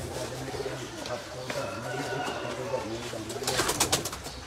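Teddy pigeons coo repeatedly in low, rolling calls, close by, with some faint background chatter and brief higher chirps near the end.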